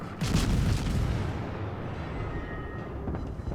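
A British destroyer's guns fire in World of Warships, a deep booming blast at the start followed by a rumbling decay and low background noise.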